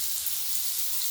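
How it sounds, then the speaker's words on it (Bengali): Potatoes with salt and turmeric fry in a pan, giving off a brief, even, hissing sizzle with no other sound. "দিয়ে আমি কিছুক্ষণ এগুলো ভালো করে ভেজে নেবো আলুগুলো।"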